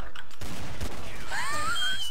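An HE grenade explodes in Counter-Strike: Source, a loud, close burst with a rumbling tail that fills the moment, followed by rising whistling game tones.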